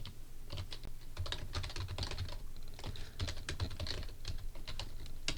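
Someone types code on a computer keyboard in a lecture setting, with rapid, uneven bursts of close key clicks and brief pauses between runs.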